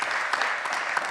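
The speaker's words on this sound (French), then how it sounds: "On peut remercier et applaudir à nouveau" A French lecture audience claps for presenter Thomas Boyer-Cassem, a short burst of steady, moderately faint applause.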